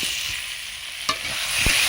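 Koi fish and green banana curry frying in a pan with the lid on and off, a steady close hiss of sizzling oil with one or two light scrapes or knocks, no voices.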